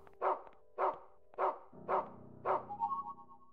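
Five evenly spaced dog barks from the Rule of Rose video game, followed by a low rumbling tone and a few softer yips trailing off at the end, with no voices.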